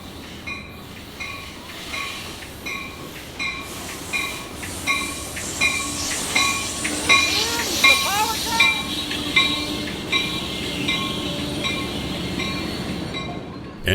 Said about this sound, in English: 505 had to wait for a freight train to pass north of town